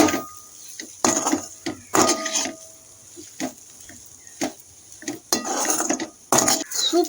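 Egg is stirred into chapathi noodles in a pan, with a spatula scraping and clinking against the metal in irregular bursts, close and clear, with no voices.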